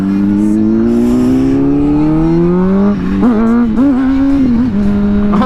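A Honda CBR600RR sport motorcycle engine climbs steadily in pitch under load during a wheelie attempt, then revs up and down in several quick bursts, loud and close, with no talking.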